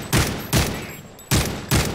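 An ACR rifle fired in a first-person shooter game, four loud, close, punchy shots in two quick pairs, each a broadband burst with a short tail.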